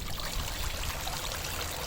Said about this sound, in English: I'll put a little more water on as well